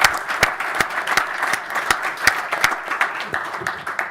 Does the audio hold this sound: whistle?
no